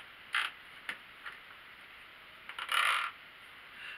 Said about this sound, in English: You can kind of hear that squeak.